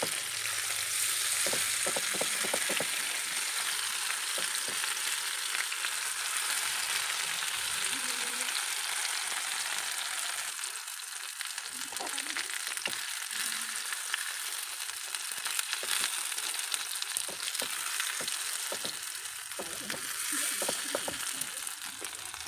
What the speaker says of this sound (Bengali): এগুলোকে উল্টে পাল্টে একটু ভেজে নেব